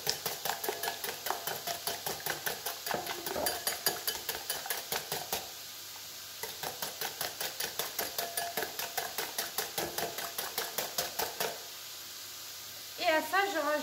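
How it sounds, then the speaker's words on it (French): A whisk beats French toast batter with Madagascar vanilla in a bowl, making fast, regular clicking taps against the sides that run in steady bursts with one brief pause, moderately quiet and close. "Donc vous fouettez tout ça."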